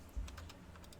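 A computer keyboard is typed on while setting up a loop in Unreal Engine: a few soft, faint key clicks within one second, preceded by a low thump.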